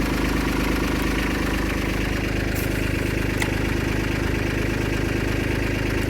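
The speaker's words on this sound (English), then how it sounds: "As the tractor's still inching up." A Kubota tractor engine runs steadily while a 9000 lb winch pulls a stubborn stump, producing a constant loud rhythmic diesel throb with a knocking pulse. No voices are heard over it.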